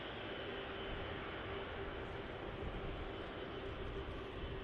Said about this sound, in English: A380 on the taxi out.